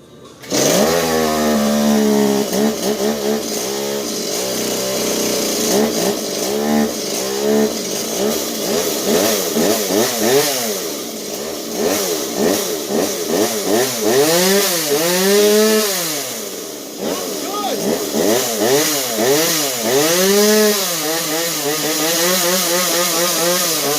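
A Stihl chainsaw, just fixed after being acquired free, runs loud and close, its engine repeatedly revving up and dropping back in rising and falling sweeps throughout, with no talking.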